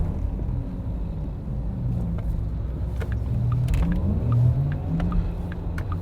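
A Porsche Taycan Turbo electric car accelerates hard with a steady low rumble and a faint rising whine, heard from inside the cabin with road noise throughout.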